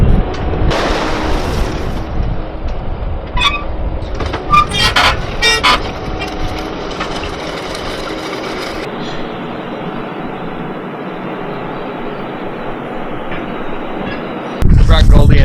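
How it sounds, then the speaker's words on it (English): A truck rolling on bare wheels with no tires, giving a harsh, continuous metallic grinding and scraping rumble with squeal-like bursts, loud and close throughout, with a louder surge near the end. "Ever seen a truck drive without tires?"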